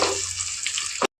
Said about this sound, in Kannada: ಎಣ್ಣೆ ಬಿಟ್ಕೊಂಡಾದ್ಮೇಲೆ ಸ್ವಲ್ಪ ನೀರು ಸೇರಿಸ್ಕೊತೀನಿ.